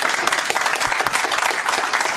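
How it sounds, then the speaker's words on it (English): A crowd at a speech given by a sheriff breaks into applause, dense and fairly close, with the clatter of many hands holding steady for a couple of seconds and no voices over it. "A smattering of applause."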